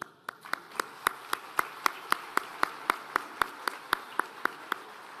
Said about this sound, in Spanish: doctor Julio María Sanguinetti, para quienes pido un aplauso.